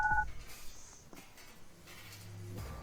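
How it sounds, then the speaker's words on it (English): A baby phone rings in the point-and-click adventure game Goodbye Deponia, a short electronic two-tone trill at the start followed by faint game ambience. "my baby phone's ringing."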